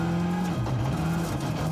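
A WRC rally car driven at the Rally Italia Sardegna 2024 shakedown, its engine holding a steady droning note with pitch dipping and recovering, loud and continuous without talk.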